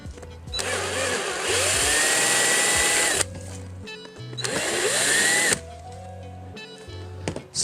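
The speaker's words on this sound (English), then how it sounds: "This ABS plastic is very soft when it comes to drilling." Step drill bit boring a pilot hole through soft ABS plastic, a loud whining power drill running in two long bursts with rising pitch sweeps as the bit cuts, briefly pausing between passes.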